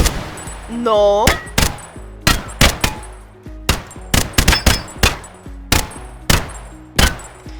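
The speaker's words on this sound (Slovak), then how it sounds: "Ďalšiu zbraň sme si zobrali RPK" RPK machine gun in a Minecraft game firing sharp, loud shots in short bursts and single cracks, each with a brief decay, preceded by a rising synthetic tone and a short spoken word.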